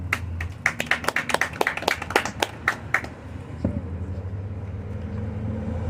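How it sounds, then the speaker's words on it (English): Audience applause at a gym event breaks out in a burst of separate sharp claps for about three seconds, then fades into a murmuring room with low rumble. "Give a round of applause for Mr."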